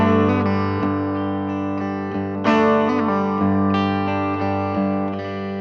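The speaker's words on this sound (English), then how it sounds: "Okay, so here's just a regular bridge pickup sound." Telecaster bridge-pickup electric guitar chords ring out with a bright, slightly distorted tone, strummed a few times and left to sustain.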